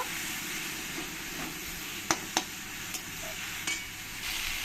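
Ginger-garlic paste, ground spices and chilli powder with tomato frying together in a pan for a Bengali egg and soybean masala, giving a steady broad sizzle with a few sharp stirring knocks.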